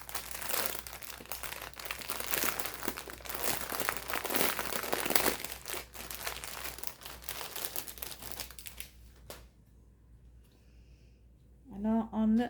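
Plastic packaging crinkles and crunches for about nine seconds as cross-stitch embroidery thread is unwrapped, dense rustling close to the mic, then quiet, with a brief voice at the end.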